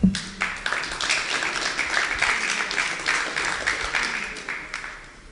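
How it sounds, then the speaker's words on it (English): Audience applause for a speaker named Michael at an investment lab event, a steady wash of clapping from a sizeable crowd lasting about five seconds and tapering off at the end. "maybe an applause for Michael"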